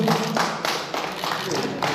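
An audience applauds a player at the closing ceremony of a men's doubles badminton Mayor Cup tournament. Rhythmic claps come in brisk pulses, mixed with voices.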